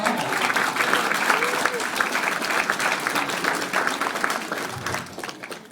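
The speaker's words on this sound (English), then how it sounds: "Give everybody a round of applause" Sustained applause from a school-age audience at a motivational talk, steady dense clapping holding for several seconds before tapering off, with a voice faintly underneath.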